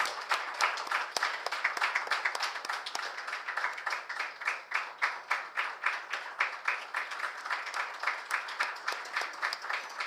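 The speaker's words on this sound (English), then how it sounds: "A huge round of applause," Applause at a pharmaceutical company's stock listing ceremony, beginning as scattered clapping and settling into a steady, rhythmic unison clap that pulses evenly for several seconds.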